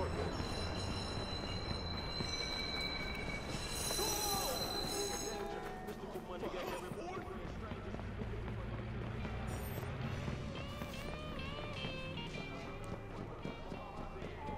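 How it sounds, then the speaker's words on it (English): A train in the Watch Dogs video game rumbles past steadily, with wheel noise and faint squealing over a continuous low roar, and voices or game sounds mixed in. "Alright, the train's over here."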